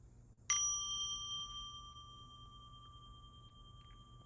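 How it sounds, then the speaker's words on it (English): A mindfulness bell is struck once, a bright clear ding with long sustained ringing overtones that slowly fade over a few seconds in a quiet room. "So I'm going to invite the sound of the bell"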